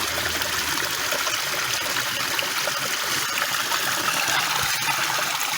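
Water runs steadily through a gold sluice box loaded with sandy gravel and quartz, a continuous close rushing and trickling wash with no pauses and no voices.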